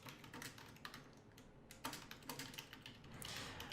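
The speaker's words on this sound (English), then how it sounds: "I should not go quiet as I'm typing." Rapid, irregular typing on a computer keyboard, close and fairly quiet, with clustered bursts of key clicks and no talking.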